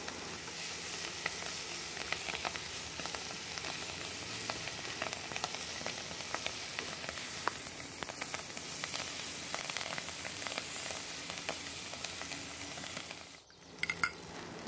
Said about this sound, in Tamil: நீங்கள் இந்த வெட்டி வச்சிருக்கிற ஸ்பினாச், பசலிக்கீரை அதையும் சேர்த்து வதக்கி விட்டுருங்க